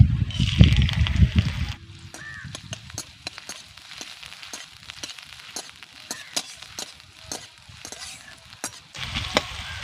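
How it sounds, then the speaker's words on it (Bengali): Chopped onion sizzles as it drops into a little hot white oil, a loud burst of frying at the start and end with stirring clinks and scraping in between. "এবার দিয়ে দিচ্ছি কেটে রাখা পেঁয়াজ"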